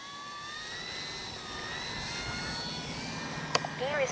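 An X-Fly Spitfire radio-controlled model plane with retracted landing gear flies overhead, its motor whining steadily with shifting pitch as it passes, growing a little louder toward the end, with a sharp click near the close.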